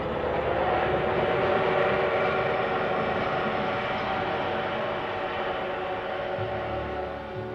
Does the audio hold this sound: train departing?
yes